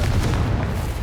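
A Confringo fire spell detonates in a video game, a dense, sustained low boom rumbling steadily for about a second with no gaps or voices.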